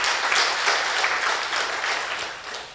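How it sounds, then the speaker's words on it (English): An audience claps steadily at an entrepreneurship program graduation ceremony, a brief even burst of many hands heard fairly close, fading slightly toward the end. "Kindly just clap."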